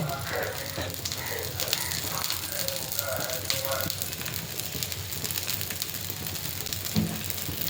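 Onion set dosa sizzles in oil on a hot pan, a continuous crackling hiss that runs steadily throughout while someone talks over it.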